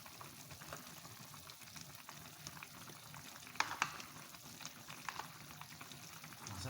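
Sliced mushrooms and leeks stir-frying in a pan: a quiet, even sizzle with soft bubbling and a few louder stirring scrapes near the middle.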